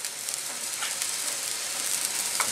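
Onions sizzle steadily in hot oil in a pan while frying for fideuà, a Spanish seafood pasta paella, with a close, continuous crackle and no talk.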